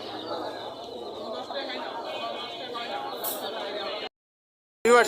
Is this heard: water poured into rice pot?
no